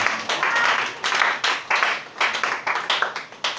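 A church congregation claps during a worship service, loud irregular bursts of applause that swell and fade in quick waves, with no talking over it.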